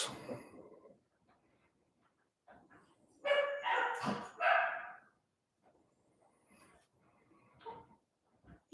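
Small dogs bark and yip in short bursts, with a louder cluster of barks in the middle and softer whimpers and yelps around it. They sound moderately close in an otherwise quiet room.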